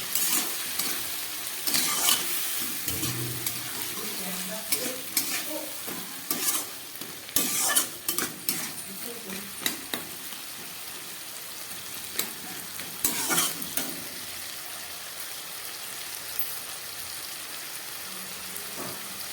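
Ginger-garlic paste and green chillies fry in hot oil while being stirred for a puffed-rice ghonto, a steady close sizzle with bursts of spatula scraping at irregular intervals, no voices.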